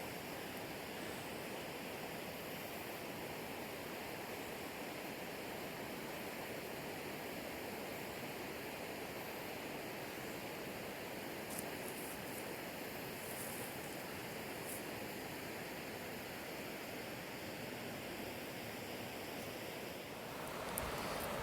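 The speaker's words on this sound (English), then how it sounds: "look at that river and listen to it" Steady, full-band rush of a flowing river at Stone Face Rock in Lee County, Virginia, a constant broad wash of moving water heard close and continuous for the whole stretch with no voices.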